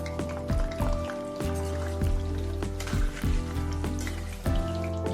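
Eggplant fries in hot oil in a kadai while undhiyu is being made, giving a steady crackling sizzle like light rain with soft background music underneath.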